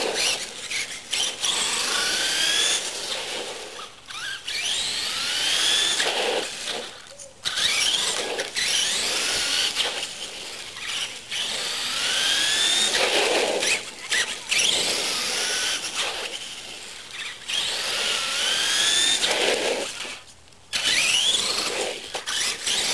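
An E-Revo RC truck fitted with a Castle Creations brushless motor and a Venom 3000 7.2-volt nickel-metal battery runs with a loud, high whining motor that rises and falls in bursts, broken by short pauses over a long stretch.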